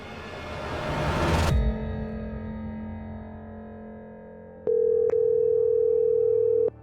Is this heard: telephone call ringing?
yes